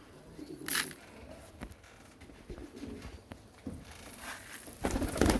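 Pigeons coo softly in a loft, low throaty calls repeating at moderate distance, with a brief sharp rustle or flutter early on and louder shuffling near the end.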